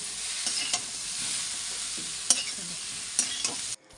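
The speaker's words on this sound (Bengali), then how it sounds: "তেলের মধ্যে আমি পেঁয়াজ আর তেজপাতা দিয়ে এখন পেঁয়াজটাকে একটুখানি ভেজে নিচ্ছি" Chopped onion and bay leaves fry in oil, giving a steady close hiss of sizzling with a few faint clicks of stirring before it cuts off abruptly near the end.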